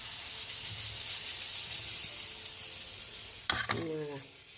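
Moroccan semolina galettes (harcha) sizzle steadily as they fry in a pan, a constant bright hiss lasting throughout, with a brief clatter of handling near the end.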